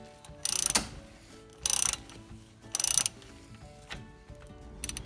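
Ratchet turning a brake caliper bolt loose on a 2006 Chevrolet HHR, three quick bursts of sharp clicking spaced about a second apart, followed by fainter single clicks, close up and without speech.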